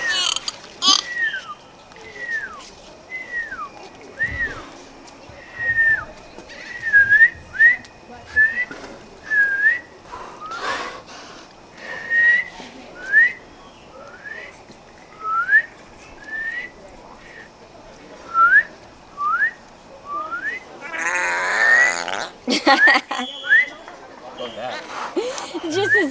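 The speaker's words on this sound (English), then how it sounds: "he can make sounds and whistle to them. He's whistling at them." Repeated short upward-sweeping whistles, dolphin-like chirps, come in a steady series of several calls, fairly clear over a background murmur of crowd chatter and occasional clatter.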